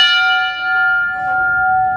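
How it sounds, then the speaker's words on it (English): The brass bell of a 1924 American LaFrance fire engine, the kind topped with an eagle, rings loud and close, its bright clanging strokes ringing out and sustaining for two seconds with no talk over it. "that famous American LaFrance bell with the eagle on top of it"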